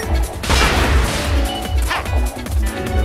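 A cannon firing in the Sonic Generations video game, a loud booming blast with crashing impacts and low thumps repeating through the short stretch, with no talk over it.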